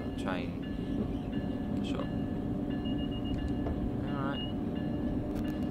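A train rumbles past on the Northeast Corridor route between New York and Trenton in Train Sim World 4, a steady loud rolling noise with clanks, while someone talks briefly over it.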